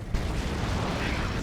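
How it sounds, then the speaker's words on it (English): A grenade goes off in the Dawn of War 2: Retribution strategy game, with a muffled, rumbling blast that swells in quickly and holds as a dense, broad roar without clear separate bangs. "That's a grenade. Gonna be a nasty one too."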